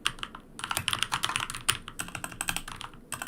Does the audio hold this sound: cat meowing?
no